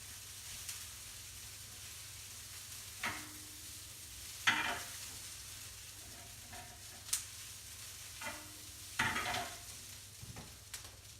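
Quinoa being mixed through a pan with the heat turned off, a soft low sizzle under a handful of spaced scraping strokes, quiet and fairly close.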